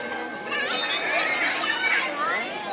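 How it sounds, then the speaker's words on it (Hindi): A dense crowd murmurs at a temple on MahaShivRatri, overlapping voices of adults and children forming a continuous, moderately loud hubbub nearby. "देख सकते हैं काफ़ी भीड़ है"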